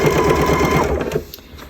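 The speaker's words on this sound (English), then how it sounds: "you're just going to start sewing right at the top edge of the binding" A sewing machine runs in a close, steady whirring stitch as it sews bias binding onto a tote bag, then slows and stops near the end.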